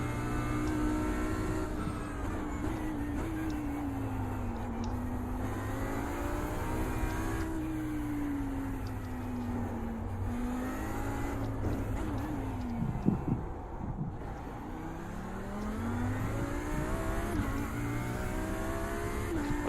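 GT3 race cars, including an Audi, lapping the Long Beach street circuit, a steady loud engine drone with revs climbing and dropping through gears and a short blip of passing noise, no talk.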